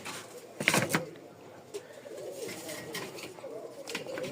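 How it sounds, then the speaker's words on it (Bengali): Black-bodied, white-headed pigeons coo close by in soft, low, repeated murmurs, with a brief louder burst near the start. "খুব সুন্দর একটা কবুতর।"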